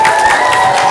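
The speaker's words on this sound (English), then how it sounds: "Boys and girls, let's give them a big round of applause" Children at a school presentation clapping and cheering, a loud, dense burst of crowd applause with excited voices mixed in, close and continuous for a brief moment.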